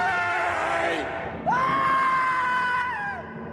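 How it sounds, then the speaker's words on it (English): A man's prolonged, anguished screaming from a played video, two long loud howls with a brief break between them, the second rising sharply and holding before trailing off. "His screams are amazing,"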